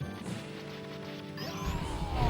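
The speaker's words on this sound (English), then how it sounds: "those eyeballs make a grotesque sound. It's like a digitized sample of like somebody smashing like Jello with their feet" A gross digitized splat plays in a Psikyo arcade shooter, like Jello stomped underfoot as eyeballs burst, mixed into busy game music with rising synth tones and a loud, muddy crunch near the end.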